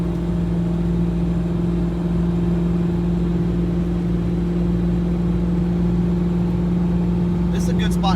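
A Ford Mustang Foxbody with an automatic transmission and an N51hr cam idles steadily up close, a smooth, even rumble with a faint voice near the end.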